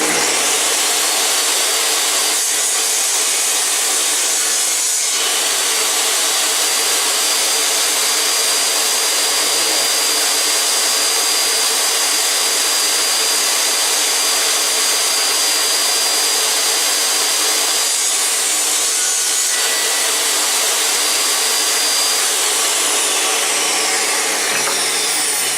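A table saw with a fairly new but cheap blade cutting through maple, a loud continuous whining roar that holds steady for the full stretch with brief dips as the wood feeds, no talking.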